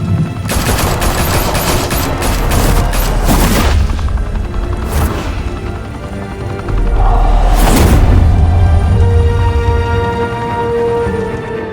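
Gunfire in Batman: The Telltale Series, with loud, close bursts of rapid automatic shots and heavy booming impacts, a busy stretch followed by another burst and a rumbling tail.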